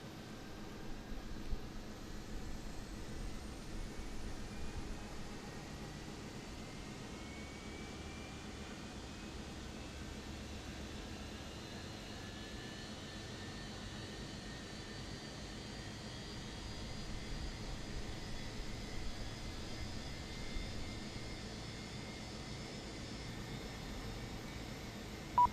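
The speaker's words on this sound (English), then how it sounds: "So the engine number 2 is started. Let's start the other one" Steady roar of a jet airliner engine spooling up in Microsoft Flight Simulator 2024, with rising whine tones over broad engine noise, constant and fairly loud throughout with no talk.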